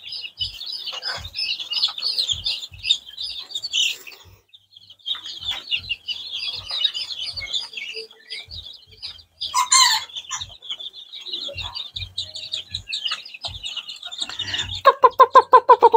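Chicks and hens in a warm brooding coop for young bantam chickens, with a constant chorus of high peeping chirps, scattered soft clucks and a rooster-like call near the end, close and busy.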